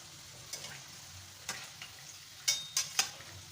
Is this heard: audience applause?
no